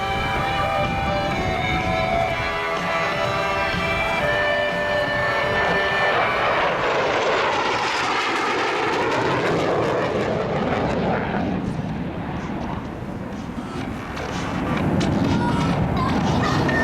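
A Lockheed Constellation airliner flies a radius turn at the 2009 Avalon air show, its loud piston-propeller engine drone swelling and rolling past in a long continuous sweep.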